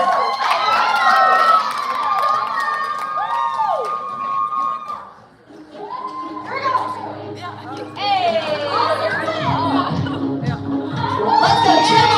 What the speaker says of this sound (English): Put your hands together for our moms.